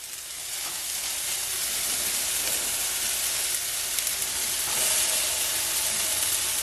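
Salisbury steak patties frying in a covered pan, a steady loud sizzle and hiss of fat and steam that holds throughout with slight swells and crackles, with no talking.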